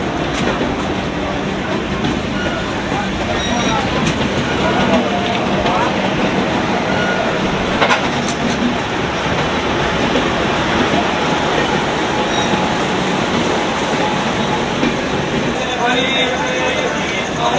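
Sabarmati Express (19167) running between Ayodhya and Varanasi, heard from on board as a steady, loud, continuous rumble of wheels and carriage noise throughout.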